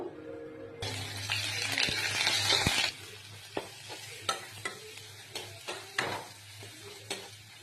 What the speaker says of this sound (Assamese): বিলাহী পিঁয়াজৰ পেষ্টটো দি দিলো অলপ সময় লৰাম